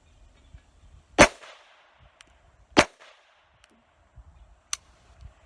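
Two loud, sharp pistol shots from a Beretta 950BS .25 ACP, spaced about a second and a half apart, followed by a couple of fainter metallic clicks and ticks.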